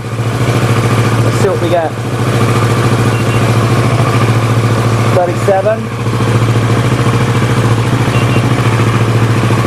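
A Kawasaki ER-6F Ninja 650 idles close and steady with an even mechanical hum, and someone talks briefly over the engine noise.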